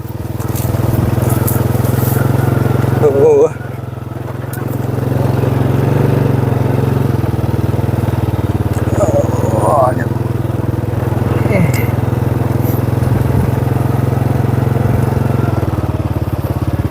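A motorcycle rides slowly along a slippery, rain-soaked dirt track into farm fields, its engine holding a steady, loud, close low drone, with brief crackles of tires on the wet ground.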